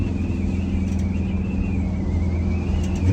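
A Detroit Diesel-powered vehicle accelerates on boost during a test drive, and its low engine rumble holds loud and steady alongside a faint whining tone that drifts slightly in pitch.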